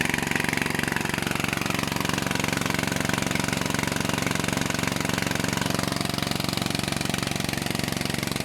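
A TF150 engine drives a water pump with a loud, steady, rapid thumping chug that holds unchanged and close throughout.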